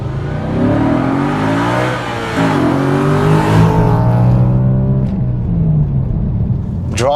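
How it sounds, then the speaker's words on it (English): An Audi RS4 being driven, its engine revving up in a loud, close, rising drone that holds for several seconds before dropping away, with no talk over it. "Driving the Audi RS4. My word, this is good."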